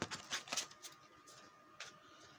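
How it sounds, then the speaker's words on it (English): A deck of stiff tarot cards is riffled and shuffled close by, with quick flurries of papery snaps at the start and another short burst later, then quiet. "Get some of these cards back up and shuffle."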